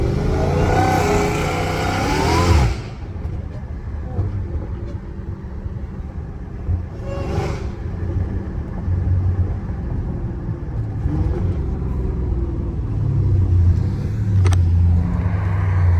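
A Dodge Challenger Hellcat Redeye revs hard at first, its engine roaring loudly, then settles into a steady rumbling cruise with the high supercharger whine rising and falling over the drone.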